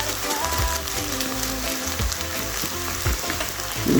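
Courgette and potato with onion sizzling steadily in a hot pan, a dense crackling fry with occasional soft pops and stirring clatter, close and continuous.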